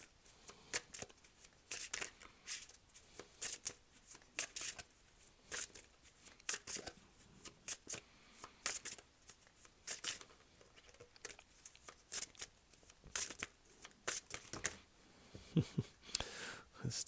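Tarot cards are shuffled close by in a quiet room, with a steady run of crisp riffling flicks and soft slaps of card on card.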